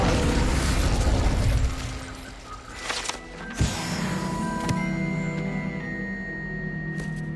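An Incendio fire spell cast in Hogwarts Legacy sets off a loud, sustained whooshing roar that fades after a couple of seconds. Sharp magical pops and a ringing, shimmering tone follow.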